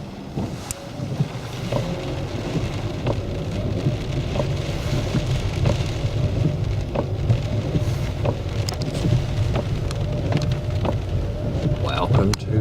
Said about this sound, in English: In the rain, of course.